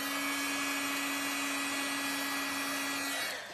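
A heat embossing tool blows hot air in a steady, close, fan-like whir with a constant hum, running unbroken and then tapering off at the end; no voices.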